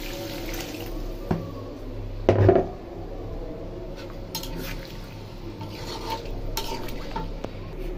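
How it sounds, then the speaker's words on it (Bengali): Water poured into a pot of braised chicken curry and stirred, with a brief louder splash and clatter near the start, then a steady low bubbling and stirring noise. "এই যে মুরগিতে আমি ঝোলের পানি দিয়ে দিচ্ছি।"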